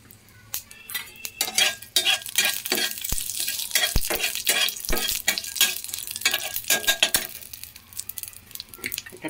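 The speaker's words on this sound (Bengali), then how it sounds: "লোহার কড়াই তো একটু বেশি গরম হয়ে গেলে তেল ছিটে" Dry chillies and a bay leaf fry in mustard oil in a hot iron wok, giving a steady crackling sizzle broken by sharp metallic clinks and scrapes of stirring, with no talking.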